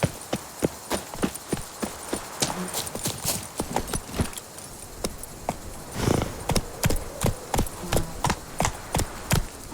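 Horse hooves clip-clop at a steady galloping rhythm in the video game The Witcher 3, with sharp repeated strikes over soft ambient game noise and a brief voice calling out.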